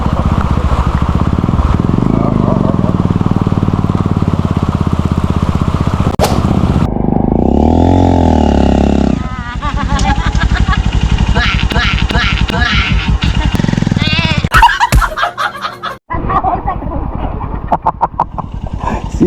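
A motorcycle engine runs steadily through a shallow river crossing, its rumble loud and close throughout, briefly shifting pitch midway with some clatter near the end, while people talk over it.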